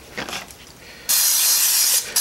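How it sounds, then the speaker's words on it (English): Nonstick cooking spray hisses in a steady burst into a hamburger patty maker, starting abruptly after a quieter stretch and running loud and continuous for about a second before cutting off. "you do want to use the spray to keep it from sticking"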